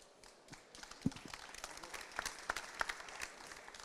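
Sparse applause at a Schüco conference at the Batimat 2015 building trade fair, a few scattered hand claps building into light clapping, fairly faint and uneven, with distinct sharp claps standing out.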